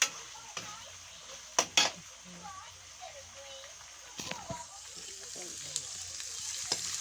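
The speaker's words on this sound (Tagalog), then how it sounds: "Sige lang po ang halo natin ng karne para po lumambot po siya" Meat for pancit is stirred in a pan as it cooks, with a soft sizzle under several sharp scraping and clinking knocks of the utensil, spread unevenly across the clip, while faint voices murmur at times.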